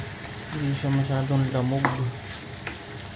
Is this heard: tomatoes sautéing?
yes